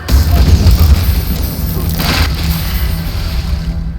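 Barrel explosion in Baldur's Gate 3, a loud booming blast at the start with a crashing rumble that settles into a sustained low roar before tapering off.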